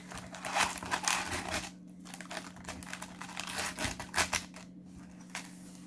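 Foil wrappers of Yu-Gi-Oh! Vortex Embrasé booster packs crinkle and tear as they are opened, a continuous close rustling with bursts of crackling over a steady low hum.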